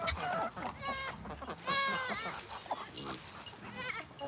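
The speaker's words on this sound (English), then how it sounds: "And the loudmouth baby goats." Baby goats bleat repeatedly in loud, wavering cries close by on a farm, a few overlapping calls mixed with other farm animal noises and a person's voice in between.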